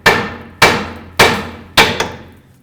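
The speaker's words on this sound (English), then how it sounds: "But we'll try our hammer method first." Four evenly spaced, sharp metallic blows ring out as a hammer strikes the tie rod on a 2009-2010 Dodge Ram 1500, each strike decaying quickly, with a small rebound tap after the last.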